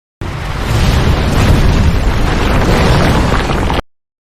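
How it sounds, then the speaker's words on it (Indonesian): A sustained, roaring explosion blast with heavy low rumble, loud and close, lasting a few seconds before cutting off abruptly. "Tiba-tiba ada ledakan dan Atsushi hilang."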